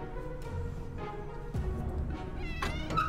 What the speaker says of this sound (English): We got a cat.